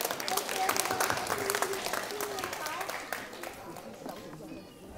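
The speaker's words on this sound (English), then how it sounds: "So everyone, please, a round of applause for Helen You of Dumpling Galaxy." An audience at a Chinese dumpling-making event applauds the owner of Dumpling Galaxy, a full burst of clapping mixed with crowd murmur and talk that fades toward the end.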